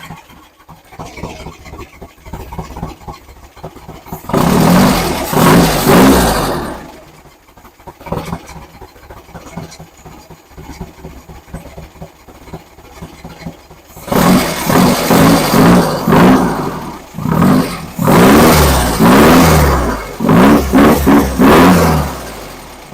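A car engine at its first start-up on the third attempt, heard close and loud in two long stretches of rough revving bursts separated by a quieter idling lull, with no talking.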